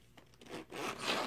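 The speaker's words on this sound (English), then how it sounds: "So let's open it up. Zipper at the top here." The top zipper of a planner case is pulled open in one short, rasping stroke, close by and growing louder toward the end.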